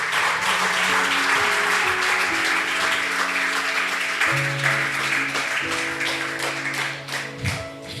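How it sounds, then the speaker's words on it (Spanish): Church congregation applauding the Lord during a Sunday morning service, dense sustained clapping throughout, with music playing underneath. "¿Cuánto le dan un aplauso al Señor en esta mañana preciosa?"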